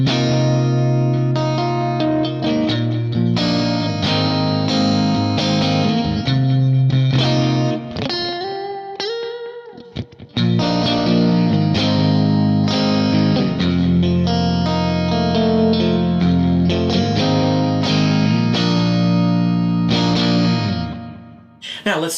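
Electric guitar through a Kemper Profiler Stage on a Tweed Twin profile, with a backing loop behind it: a steady, driven phrase with effects, chords and single notes, loud and continuous, breaking off briefly midway.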